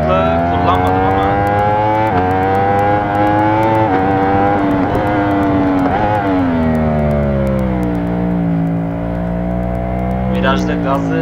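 A Yamaha MT-09 motorcycle in the Ride 4 racing game revs and accelerates, its engine whine climbing and shifting through gears in a loud, continuous drone with pitch steps as it upshifts.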